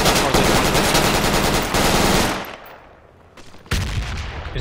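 Machine gun fire in the Project Reality military shooter, a loud, continuous burst of rapid rounds that fades to near quiet and then resumes abruptly, with no talking.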